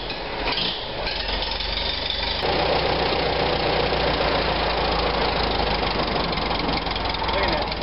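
The engine of a 1945 Farmall BN tractor idles in neutral, a loud, steady rumble with a rough knocking beat. A sharp change partway through is followed by a fuller, even drone, close up throughout.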